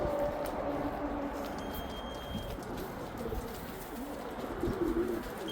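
Racing pigeons returning from a 246 km race from Cape Campbell give soft, low cooing calls close by, over a steady outdoor background with no talking.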